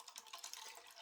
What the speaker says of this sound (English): I'll pour it into a glass.